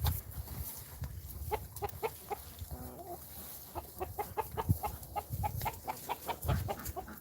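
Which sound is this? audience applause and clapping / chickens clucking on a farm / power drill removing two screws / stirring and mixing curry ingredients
chickens clucking on a farm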